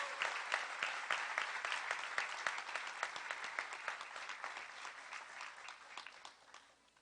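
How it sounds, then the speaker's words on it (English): A final round of applause for the 2023 graduates at the Erie County Community College commencement, steady crowd clapping heard from a distance that holds for several seconds before fading away at the end. "Let's give them a final round of applause."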